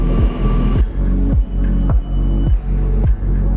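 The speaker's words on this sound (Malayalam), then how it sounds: "ഇടപ്പള്ളിയിൽ നിന്ന് ആലുവയിലേക്ക് മെട്രോ കയറാം." A Kochi Metro train running between Edappally and Aluva, heard from inside as a loud, steady rumble broken by a regular clack of wheels over rail joints about every half second.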